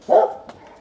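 A dog's single loud bark close by, reacting to a nail gun during IKEA PAX wardrobe fitting, followed by a faint brief yip.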